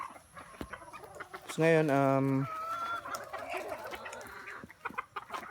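Native chickens on a farm cluck in scattered calls, with one loud, drawn-out crow from a rooster partway through and someone talking briefly nearby.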